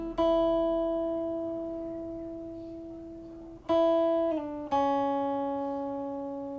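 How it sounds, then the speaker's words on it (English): A clean electric guitar melody for a lo-fi beat: one long ringing note that slowly fades, then a few quick notes in succession, each sustained and decaying, heard close and alone. "another guitar playing a melody that sounds like this."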